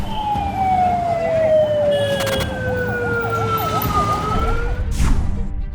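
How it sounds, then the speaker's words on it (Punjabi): Air raid warning sirens sound during a city and cantonment mock drill, with several wailing tones rising and falling together, steady and fairly loud over outdoor background noise, and a brief burst of noise near the end. "ਸਾਇਰਨਸ ਦੀ ਵਰਕੇਬਿਲਿਟੀ ਚੈੱਕ ਕਰਾਉਣ ਵਾਸਤੇ ਇੱਕ ਐਕਸਰਸਾਈਜ਼ ਕੀਤੀ ਜਾ ਰਹੀ ਹੈ"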